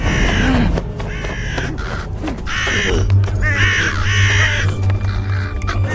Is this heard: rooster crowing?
no